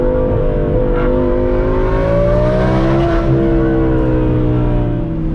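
An Audi R8 with a Valvetronic F1 exhaust revs up loudly, the engine pitch climbing and falling with a deep, throaty rumble close by.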